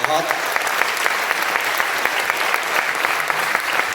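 Steady applause from a large crowd at an Indian poetry gathering, dense and continuous clapping at even loudness throughout, with no break.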